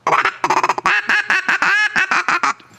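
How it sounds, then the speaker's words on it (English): Rapid series of loud, nasal quacks from a duck call, close and clear, in quick bursts with a short trailing tail. "you can make a duck call with the duck call"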